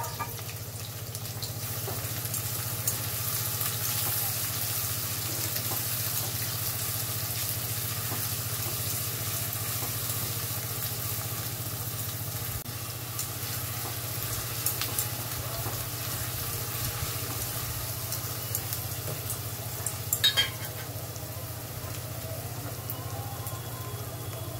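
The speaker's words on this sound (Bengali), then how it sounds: "তখন দিয়ে দিলাম কাটা পেঁয়াজটা।" Chopped onion fries in hot oil after whole black peppercorns, giving a continuous even sizzle with a low steady hum beneath and a few brief clinks near the end.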